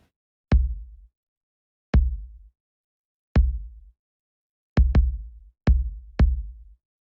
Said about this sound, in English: I actually used a Logic kick sample for the main kind of like punchier attack one.